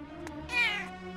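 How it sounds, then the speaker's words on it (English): A cartoon cat lets out one clear, drawn-out meow, close and loud, with a short higher squeak just before it and no talking. "You're one naughty cat, I tell ya!"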